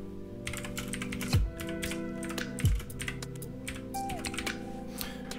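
Text is typed on a computer keyboard into LightBurn laser software: a close run of quick, light key clicks with a few heavier thumps, steady and unbroken, with no talking.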